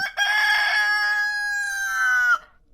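A single loud rooster crow, close by, rising then holding a long drawn-out note before cutting off, with no talking.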